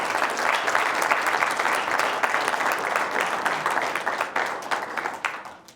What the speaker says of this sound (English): let's have one more big round of applause for Sarah Sexton-Bowser